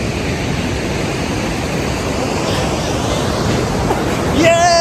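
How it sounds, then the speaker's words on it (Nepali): Chamche waterfall along the mountain road to Manang in Nepal roars as a constant, dense rush of falling water, steady and loud throughout, with a faint tone briefly rising near the end. "This is the चाम्चे Pung Jharna."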